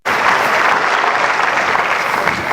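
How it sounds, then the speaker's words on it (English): A crowd at a hypnosis show gives a steady, dense round of applause, the clapping starting abruptly and holding at full strength throughout. "Another round of applause for these guys there."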